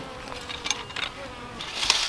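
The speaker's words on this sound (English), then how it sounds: "a swarm just comes right where our bees were into the hive" A honey bee swarm buzzes around a backyard hive in a homestead garden, a soft, steady insect drone close by with a few brief louder swells.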